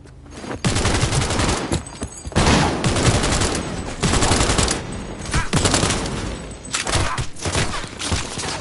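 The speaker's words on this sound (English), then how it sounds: "I'm under fire!" Bursts of rapid automatic gunfire in a Cyberpunk 2077 firefight come in loud, dense volleys separated by short gaps, with thuds and cracks mixed in.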